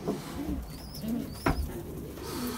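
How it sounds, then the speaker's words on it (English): Racing pigeons in an old-bird loft coo softly and steadily, low throaty calls repeating over a faint background with a brief sharper sound midway. "Real nice bird."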